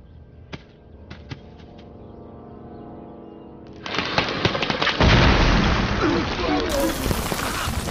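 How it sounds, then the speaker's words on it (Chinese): A ripe jungle fruit explodes in a film scene: a few sharp ticks give way to a sudden, loud, sustained crackling roar that swells to a heavy boom and keeps rumbling. "这种果实在成熟期极易发生爆炸"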